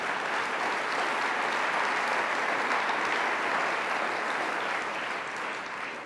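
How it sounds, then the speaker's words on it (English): Sustained audience applause at a cystic fibrosis conference plenary session, a steady dense wash of many hands clapping in a large hall for about six seconds, even in level and tapering slightly at the end. "Please recognize them with a round of applause."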